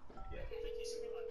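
A telephone in a video game gives a steady electronic tone, close and fairly quiet, with brief stepped tones before it. Voices talk under it at the start.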